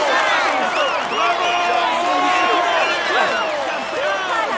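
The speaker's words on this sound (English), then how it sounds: "Applaud him." Spectators in a cycling video game cheer, whoop and applaud a stage winner on the podium, a loud, dense crowd roar that holds steady throughout.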